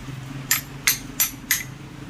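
Four sharp metallic hammer blows, evenly spaced and close, struck on a Supra motorcycle clutch part over a low background hum.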